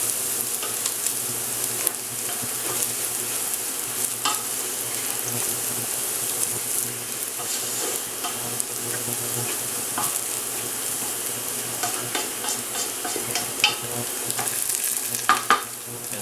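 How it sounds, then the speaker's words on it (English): Garlic sizzles and crackles steadily in a hot pan, with occasional stirring scrapes and small pops close by, no voices over it. "I'm now going to add my garlic. And basically just cook that till it's fragrant."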